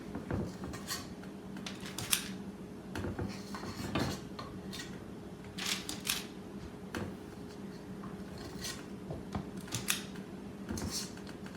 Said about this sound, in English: You can use just a couple of spoons to be able to scoop them out.